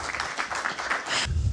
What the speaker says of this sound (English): we'll move on to applause